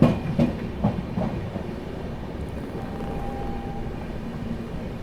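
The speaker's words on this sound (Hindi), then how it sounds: "अपनी प्रयागराज एक्सप्रेस जो है पहुंच रही है अलीगढ़ जंक्शन।" The 12417 Prayagraj Express pulls into Aligarh Junction before dawn, a steady low rumble with faint wheel clatter and a thin, sustained whine, with no talk.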